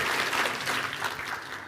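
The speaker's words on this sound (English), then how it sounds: "Let's give a round of applause to the Most High God who has enabled us to be here." A crowd at a launch event claps together in sustained applause, a dense, even roar of hands that swells slightly and then begins to taper off, with no voices on top.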